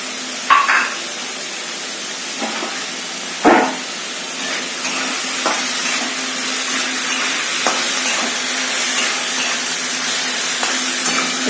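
Dried fish cooking with eggplant in a pan, seasoned with salt, gives a steady soft sizzle with a few sharp clinks of stirring against the pan, close and alone.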